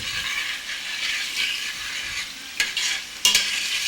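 A spoon stirs all-purpose seasoning through a Ghanaian beef jollof mixture in a pot, making a continuous wet scraping and soft sizzle, with a few sharper clinks of the utensil against the pot near the end.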